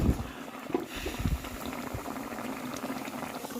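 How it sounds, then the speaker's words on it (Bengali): Curry broth for banana-flower and lentil kofta boils steadily in a covered pot, a continuous close bubbling and rumbling that holds even throughout with no voices. "ঝোলটা ফুটতে শুরু করেছে"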